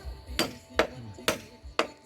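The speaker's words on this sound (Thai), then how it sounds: "เจาะแล้วนะครับเหลือตอกตะปูเนาะ" Four sharp, evenly spaced hammer blows driving a nail into wood at a building site, loud and close with short ringing decays.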